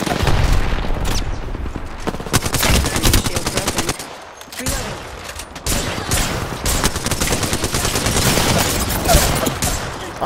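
Heavy automatic gunfire in Apex Legends, with loud, close, continuous bursts of rapid shots that break off briefly and then resume.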